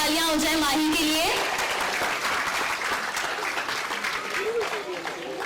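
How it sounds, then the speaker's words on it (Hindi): An audience at a quiz event in a residential colony applauds a winner with loud, dense clapping. A voice rises briefly at the start, then the clapping continues unbroken and close. "जोरदार तालियां हो जाए"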